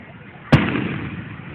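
A single Fourth of July firework bursts with a sharp, loud boom that trails off into a rumbling decay, heard close in an outdoor setting in Santa Maria, California.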